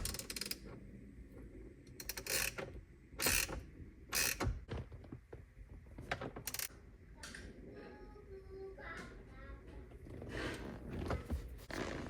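A ratchet tightens a wheel nut on a Jeep Wrangler in short bursts of clicking and metallic clanks, several separate strokes spread over about twelve seconds, close by with quiet pauses between them.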